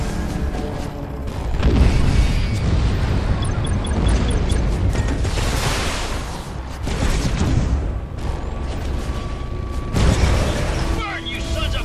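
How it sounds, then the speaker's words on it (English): In the mech video game Archangel, a bomb is launched and detonated: heavy booming blasts and crashing debris roll through a loud, dense battle mix, with several surges of explosive noise across the stretch. "You launch it, I'll shoot it to detonate."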